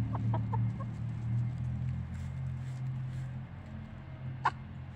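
A hen gives soft, low clucks near the microphone, then one short, sharp sneeze bursts out just before the end.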